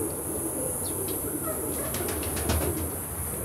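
Pigeons coo softly in a loft of about 150 birds, with low repeated coos and faint chirps over a steady background hum.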